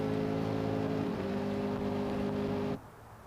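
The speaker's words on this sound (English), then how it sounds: "Yeah, his truck sounds good." A Jimco off-road race truck at the SCORE San Felipe 250 desert race roars at steady high revs with a sustained harmonic engine drone, loud and close, then drops off abruptly near the end as it pulls away.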